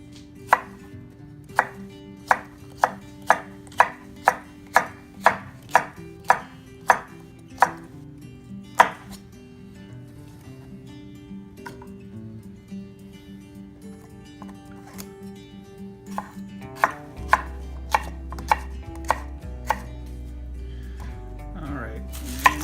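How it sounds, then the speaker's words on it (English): A knife chops onions into rings on a board, about a dozen crisp evenly spaced thuds, then a pause before scattered quieter cuts return over a low hum. "Gonna do the onions. And we're just gonna cut these into rings."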